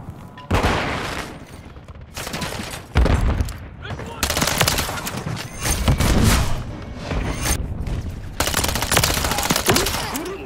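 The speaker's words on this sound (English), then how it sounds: "Who's shooting me?" Rapid video game gunfire in bursts, loud and close, with sharp rattling volleys separated by brief pauses, and voices talking over the shooting.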